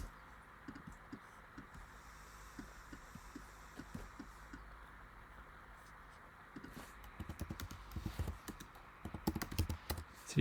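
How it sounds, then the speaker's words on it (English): Keys on a computer keyboard are tapped in irregular bursts, soft and close at first and then growing faster and louder toward the end. "So you just see me typing in these results now."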